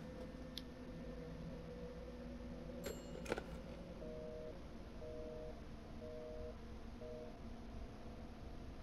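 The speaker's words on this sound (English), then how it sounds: "It has a dial tone." A steady telephone dial tone from the video game Resident Evil Village hums continuously at a low, even level, with a few faint intermittent beeps later on and no voices.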